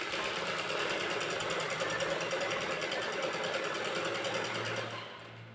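Sewing machine stitching piping onto a net fabric blouse, one continuous close, steady mechanical whir that fades slightly at the end.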